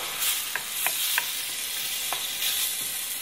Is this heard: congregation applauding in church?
no